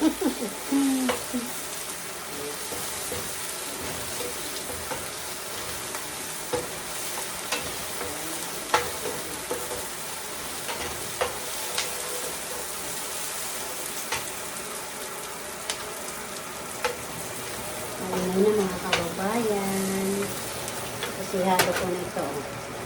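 Onion and garlic sautéing in a pan for ginisang sayote, a steady soft sizzle with occasional stirring scrapes and clinks, louder bursts of frying near the end, while a person talks over it.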